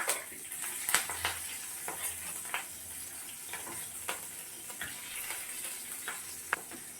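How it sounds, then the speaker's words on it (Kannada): Three green chillies fry in hot oil in a pan, giving a faint, continuous crackle with small irregular pops and light ticks of stirring, close by and without any voices. "ಒಂದು 3 ಹಸಿಮೆಣಸಿನ್ಕಾಯಿ ತಗೊಂಡಿದ್ದೀನಿ. ಸ್ವಲ್ಪ ಫ್ರೈ ಆಗಲಿದೆ."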